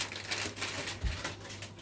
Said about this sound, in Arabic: ادي كيس البسبوسه